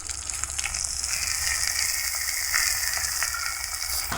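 Wax gourd slices fry in mustard oil with a steady, close hiss and crackle, stirred with a knife that adds faint scraping amid the continuous sizzle.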